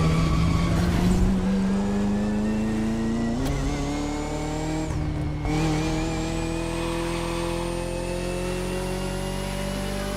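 A McLaren race car engine in The Crew Motorfest revs hard and steadily, its pitch climbing through the gears with a brief dip partway, loud and continuous with no talking.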